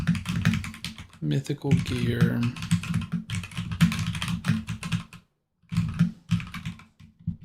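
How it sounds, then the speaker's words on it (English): Rapid, loud clicking of computer keys being typed close by, running under a voice talking through most of it, with a brief pause near the end. "And I apologize for the typing noise. I know it's loud."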